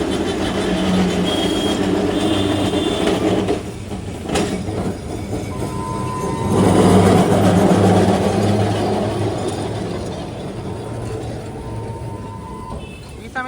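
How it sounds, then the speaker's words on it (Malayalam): A tram approaches along a street in Kolkata, a continuous rumbling with clattering wheels and a rise in loudness midway, over street noise. "വീണ്ടും ഒരു ട്രാം വരുന്നത് കാണാം."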